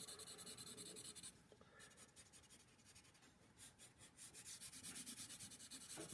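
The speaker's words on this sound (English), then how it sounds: "I like to use a Sharpie because it gives it that nice shading to it." A worn-out Sharpie marker shading across paper gives soft, rhythmic scratchy rubbing strokes, close and quiet, with short pauses between bursts and no talking.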